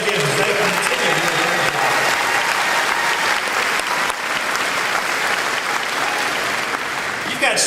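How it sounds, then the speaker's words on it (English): Dense, sustained applause from a large crowd at the Iowa Republican state convention, loud and steady throughout with no break. "Let's hear a round of applause for Terry and Kim as they continue."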